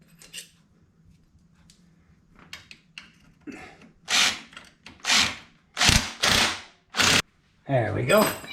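Ratcheting wrench tightening the sprocket nut on a Yamaha Banshee ATV with a 421cc engine: quiet scraping and fiddling at first, then a run of loud, rhythmic ratchet clicks in separate bursts, close up with no speech.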